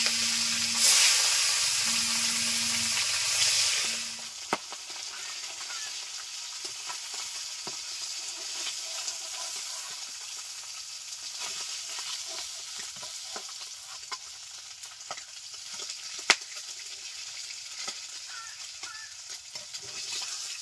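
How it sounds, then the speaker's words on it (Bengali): River fish fry in hot oil with a loud, dense sizzle at first, then settle into a quieter, steady crackle and hiss with scattered pops and spatters over a long stretch. "মাছগুলো ভেজে নিচ্ছি।"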